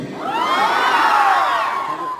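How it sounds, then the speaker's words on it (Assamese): A large crowd shouts and cheers together at the 2019 Dhanshiri youth festival in Barpathar, Golaghat, a loud sustained roar of many high voices rising and falling. "ইমান চিঞৰিছে"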